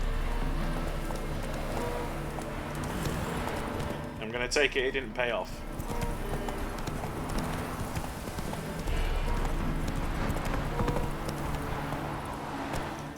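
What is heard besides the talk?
horse galloping in the video game The Witcher 3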